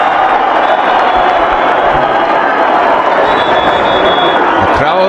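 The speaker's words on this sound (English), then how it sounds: "The crowd are up and about again." Loud, dense crowd roar at a cricket stadium in Harare during an India versus Zimbabwe T20 match, a steady wash of cheering and whooping that holds throughout with a commentator talking over it.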